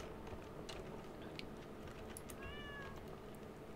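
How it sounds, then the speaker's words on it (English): A cat in the Stardew Valley farming game lets out a short rising meow partway through, faint against a steady background hum and a few light clicks, with no talking. "out of my way, Magic Kitty"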